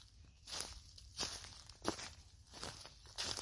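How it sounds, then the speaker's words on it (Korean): Footsteps of a man drawing nearer, about five distinct soft steps spaced roughly every 0.65 seconds, crisp and close, with no voices. "하지만 사내의 발소리는 점점 더 가까워지고 있었습니다."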